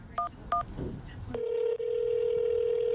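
Inside a 911 dispatch center, two short electronic telephone tones sound, followed by a steady, sustained phone tone that runs to the end over faint background murmur and room noise.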